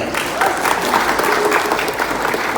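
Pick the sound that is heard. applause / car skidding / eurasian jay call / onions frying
applause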